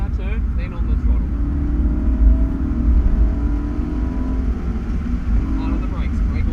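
Race car engine droning and revving on a track-school lapping session at Wakefield Park, a steady close rumble with the throttle held open, alone with no talk.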